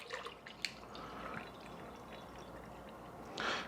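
Tomato juice poured into a pitcher, a soft continuous liquid trickle with a few drips, quiet and close, no voices over it.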